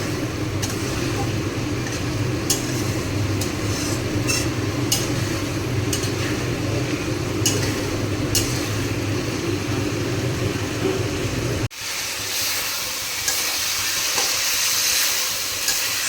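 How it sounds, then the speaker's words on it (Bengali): Masala frying in a pan for Bengali egg curry, a steady sizzling hiss running continuously with a low rumble, shifting to a brighter, harsher sizzle near the end as the water cooks off. "এই জলটা শুকানো পর্যন্ত ভেজে নেব।"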